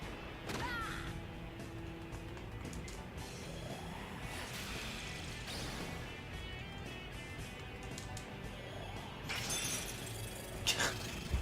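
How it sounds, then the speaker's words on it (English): Glass-like shattering effects from the video game Digital Devil Saga burst out several times, at the start and again near the end, amid dense game noise and music. "Forgot about that shattering like glass sound."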